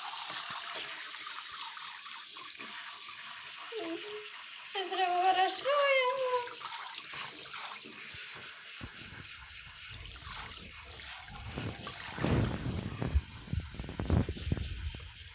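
Water splashes and trickles while a small dog is bathed in a rural Ukrainian home, with a person talking softly over the running water and louder sloshing bursts near the end.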